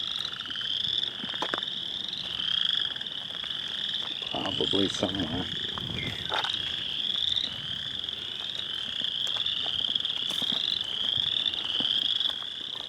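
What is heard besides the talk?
frog croaking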